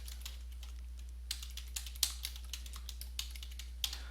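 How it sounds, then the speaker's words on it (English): Keys clatter on a computer keyboard in quick, uneven bursts of close, crisp clicks over a low steady hum, with no voices. "wherever I'd want this text to show up, now I would just type in."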